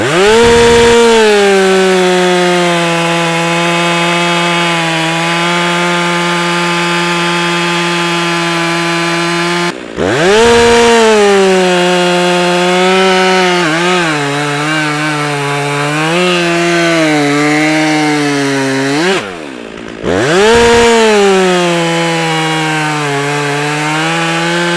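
Stihl chainsaws, a 500i, 362 and 291, milling and clearing wood, give a loud continuous high engine whine that dips and bogs as they cut, with two brief pauses and no talk.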